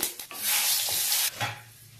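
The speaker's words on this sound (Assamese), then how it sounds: "তেলটো গৰম হোৱাত ইয়াতে মই কেইটামান পাঁচফোৰণ দি দিলোঁ।" Panch phoron spices hit hot mustard oil with a bright, hissing sizzle, close and steady with a brief stirring scrape, no voices.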